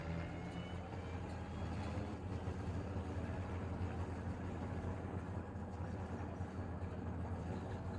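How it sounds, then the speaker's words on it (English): A tractor engine in the Farming Simulator video game runs at a steady, low, droning idle, quiet and unbroken, with no talk over it. "so you can all hear the tractor now"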